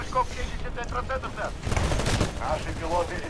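Titanfall gunfire crackles in a steady stream of rapid shots, with a denser, louder burst near the middle, while a player keeps talking over the game sounds.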